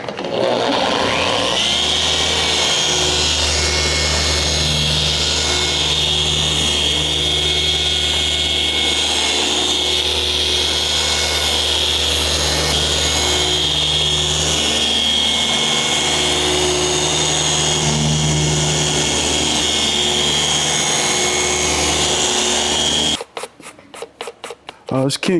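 Steady drone of a car polisher running on black paint as the pad cuts in, spinning up at the start and holding a constant whirring hum before cutting out near the end.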